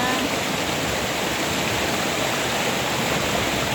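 Loud, constant rush of fast-flowing river water, a dense broadband roar with no pauses or voices.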